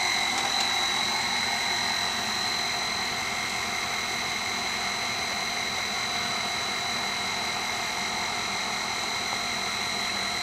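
A swimming pool pump motor runs at 45 hertz, about 2,897 RPM, giving a steady, continuous hum with constant high whining tones that hold unchanged throughout, with no voices.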